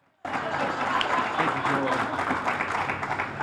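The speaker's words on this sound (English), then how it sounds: "Let's give him a round of applause." A crowd at a building ribbon-cutting ceremony bursts into applause and keeps clapping steadily and loudly, a dense wash of hands with no pause.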